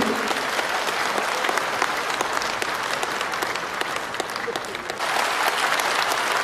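Sustained applause from a large audience at an award ceremony for an independent arts prize, a dense steady wash of many hands clapping that runs the whole time with no voices on top.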